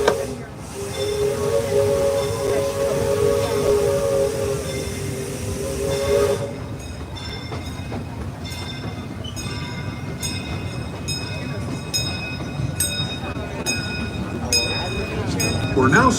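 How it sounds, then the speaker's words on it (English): A Disneyland Railroad steam train rolls along rails with a steady rumble and hiss, a whistle-like tone sounding early on, then rhythmic clicking of wheels over the track. "Please remain seated while the train is in motion."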